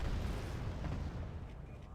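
A heavy video game explosion in a combat game with .50 cal fire and Cobra helicopters: a loud, sustained low rumble that fills the whole stretch and slowly fades.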